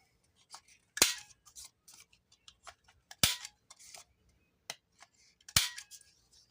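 Scissors trim a folded sheet of paper, with three loud, crisp snips spaced a couple of seconds apart and faint paper handling and light ticks between them, heard close with no talking.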